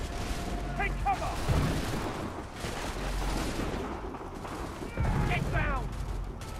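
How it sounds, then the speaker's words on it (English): Soldiers' musket gunfire in Assassin's Creed 3, a dense battlefield volley of cracks and rumbling booms rolling on throughout, with shouted voices rising over the shooting. "Take cover! They're firing!"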